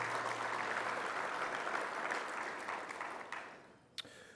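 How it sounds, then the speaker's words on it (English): Audience at a keynote event gives a round of applause: dense, even clapping from a large crowd that gradually tapers off, ending with a few scattered claps. "A quick round of applause for their leadership,"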